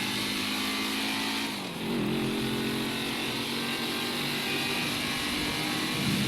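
Car traffic in the game GTA 5, a steady loud engine drone with passing vehicles and a brief dip in the middle, continuing throughout without voices.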